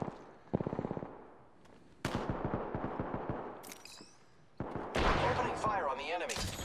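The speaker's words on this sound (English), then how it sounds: "Opening fire on the enemy." Gunfire in the video game Apex Legends comes in several sharp bursts and rapid volleys between brief quiet gaps, loud and close, with voices faintly underneath.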